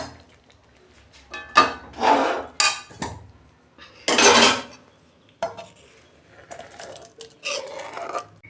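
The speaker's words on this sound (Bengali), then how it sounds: "দেখুন বন্ধুরা তরকা হয়ে গেছে, আমি ঢেলে ফেলছি।" Hot tarka of tempered spices poured from a pan over cooked dal: a few close bursts of sizzling and splatter separated by metallic clinks of the pan and spoon, loud and uneven.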